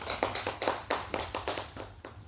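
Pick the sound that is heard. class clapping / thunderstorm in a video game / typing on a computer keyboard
class clapping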